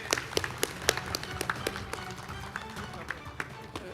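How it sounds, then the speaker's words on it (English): Audience applause at an award ceremony, a lifetime achievement rice award presented at a world rice conference, heard as scattered sharp claps that rise briefly and then thin out, with faint crowd murmur beneath. "Let's give Subra and Miss Hong a round of applause"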